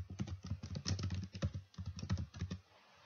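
Close, rapid typing on a computer keyboard: a dense run of sharp key clicks that goes on for about two and a half seconds, then stops.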